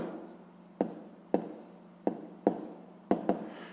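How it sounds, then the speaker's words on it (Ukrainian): Pen writing on paper while the answer to a 5th-grade fractions exercise is noted down: six or seven close, crisp taps with short scratchy strokes, unevenly spaced, quiet and without talk. "пишемо тоді відповідь. І записуємо 24 52"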